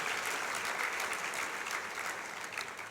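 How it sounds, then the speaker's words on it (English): Audience applause fills a conference session hall, a dense, steady wash of many hands clapping at once that fades slightly toward the end. "So let's give Aetna a big round of applause for sponsoring this morning's session."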